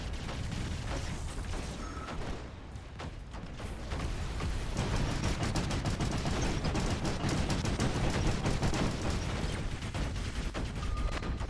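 Combat robots in the video game War Robots fire weapons continuously, a loud, dense barrage of rapid shots and mechanical clatter that never lets up.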